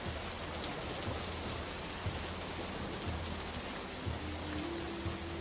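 Heavy rain on a stormy night in a Bengali animated folk tale, a dense constant downpour with a low rumbling undertone, steady and without voices.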